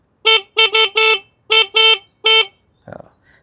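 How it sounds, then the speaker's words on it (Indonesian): Horn of a WMOTO Porter 125 motorbike, loud and close: seven sharp electric beeps in an irregular pattern of short and longer honks, followed by brief fainter mechanical clicks. "kalau kalian penasaran sama bunyi klakson ya,"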